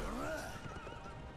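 A horse whinnies in the hack-and-slash game Berserk and the Band of the Hawk, a loud rising-then-falling neigh in the first half second that fades into busy game noise and faint hoofbeats.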